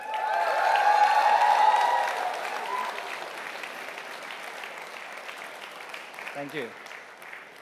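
Audience applause fills the hall at the ColorOS 7 launch event, a dense burst of clapping that swells then fades under a speaker's amplified voice thanking the crowd.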